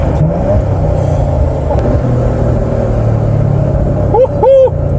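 A 2015 Maserati Ghibli SQ4 engine rumbling loudly from inside the cabin, rising in a sharp rev blip near the end as it downshifts, with a voice speaking briefly under the engine.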